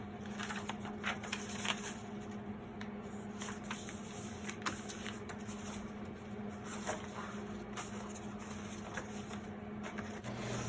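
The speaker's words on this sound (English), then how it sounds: "what I'll do is just fold some pages" Paper pages for a junk journal being folded and handled, a steady run of soft crinkles, rustles and creasing swipes, close and fairly quiet, with no talk.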